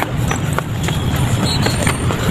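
Steady clip-clopping of horse hooves, a quick regular rhythm of light knocks over loud rumbling road noise, from a horse pulling a carriage on the road.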